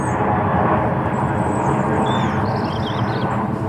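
A fixed-wing airplane passes overhead above an allotment plot in November, a steady broad roar that stays fairly loud and even across the short stretch with no one speaking.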